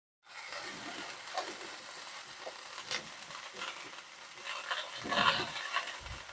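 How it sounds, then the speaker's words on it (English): Beef Wellington sears in a hot pan, giving a steady, close frying sizzle with light crackle that swells briefly near the end. "I've got my beef Wellington here searing in the pan"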